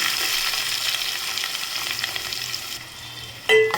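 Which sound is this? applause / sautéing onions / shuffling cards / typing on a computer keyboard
sautéing onions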